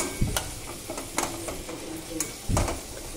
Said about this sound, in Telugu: ఇలా అయితే ఫ్రై చేయాలి